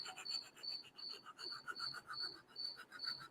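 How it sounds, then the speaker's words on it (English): A cricket chirps close by at night in an indoor workshop setting, giving a steady, regular series of bright, high chirps at an even pace. The sound is fairly quiet and heard alone. "I don't know if you could hear that cricket. That cricket's close. I think he's moving in."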